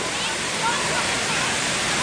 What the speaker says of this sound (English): the fountain is open for all